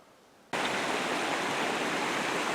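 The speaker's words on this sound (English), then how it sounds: "So this is Gulick Creek." Gulick Creek flowing along a mountain road near Black Mountain, a steady loud rush of water that bursts in abruptly after a moment of quiet and holds constant, close by, with no voices.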